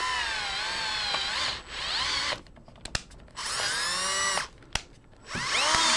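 Metal held in a vise being worked, heard as loud, harsh grinding strokes in long bursts separated by short pauses with sharp clicks, close up.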